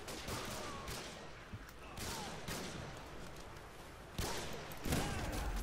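Call of Duty gunfire with the M40A3 sniper rifle nearby, several sharp cracks spread across a busy, noisy game mix with other weapons going off, set low in the mix.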